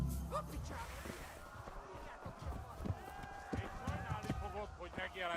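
Horse hooves in the medieval game Kingdom Come: Deliverance, a quick uneven clatter of hoofbeats mixed with game sounds and someone talking over them.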